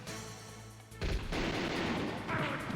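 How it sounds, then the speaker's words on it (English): Gunfire in Metal Gear Solid as a guard is shot, a sharp burst of shots breaking in after a quieter musical stretch, followed by noisy crackling reverberation. "Can I just gun this guy down?"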